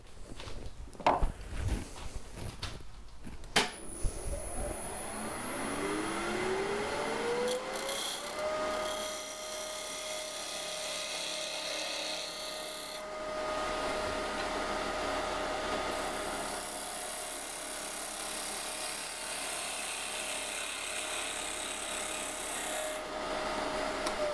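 On a lathe, a woodturning tool scrapes and cleans up the surface of a maple burl pepper mill: a few sharp knocks, then a rising whine settling into a steady faint hiss and rasp of cutting, no talk.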